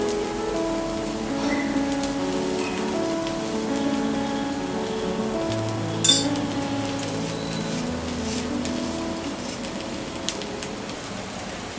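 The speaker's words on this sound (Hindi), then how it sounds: "दूसरी तरफ भी ऑयल डालेंगे" Oil crackles and sizzles steadily on a hot griddle beneath a moong dal dosa (pesarattu), a dense close hiss like rain with a sharp tap or two, no voices.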